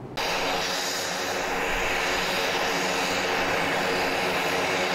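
A fixed-wing airplane's engines roar loudly and steadily after a brief quieter opening, a close, continuous drone as the plane arrives on the tarmac, with no talk over it.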